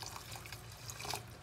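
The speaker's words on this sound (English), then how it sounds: "Let's add water" Water is poured into a cooking pan for pancit palabok sauce, giving soft splashing and dripping with small liquid bubbles and trickles, faint and close, with no talking.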